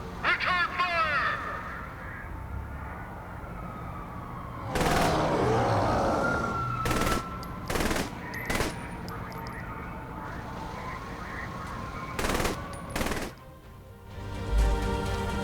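Shootout in Saints Row The Third Remastered on PS5, with loud gunshot bursts and sharp cracks of gunfire amid constant game noise, several distinct blasts and short volleys, with voices talking throughout.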